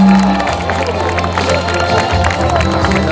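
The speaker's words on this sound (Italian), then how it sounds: "Gli applausi sono per un grandissimo Simon" Crowd applauding and cheering at a Giro d'Italia cycling podium ceremony for the maglia rosa, a steady, loud wash of clapping and voices that continues throughout, with hum and other sounds underneath.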